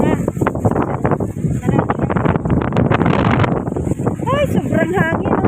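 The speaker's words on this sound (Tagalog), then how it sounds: "Ay, sobrang hangin." Strong wind blows outdoors among mango trees at a vegetable stand in Cavite, a loud, gusty rush buffeting the microphone while people talk over it.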